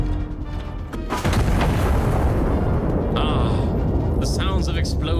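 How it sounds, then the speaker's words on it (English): High-explosive artillery shells detonate in the video game Iron Nest, a loud rolling boom followed by sustained rumbling blast noise and crackle, with a sharp burst near the start and tonal game effects layered over the din. "The sounds of explosions in the morning, watching those foul rebels explode."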